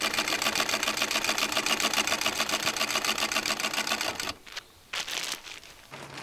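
A sewing machine stitches insulated curtains for a converted school bus, running steadily and fast for about four seconds, then stopping and restarting in short bursts.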